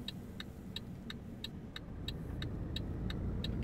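A Mercedes Actros truck with a 517 horsepower engine in Euro Truck Simulator 2 gives a steady low engine drone with a regular ticking, like an indicator, over it, quiet and even.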